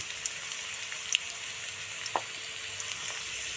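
Chopped onion and a pinch of asafoetida fry in a pan with a steady, soft sizzle, broken by a few faint clicks and one brief louder tap near the middle.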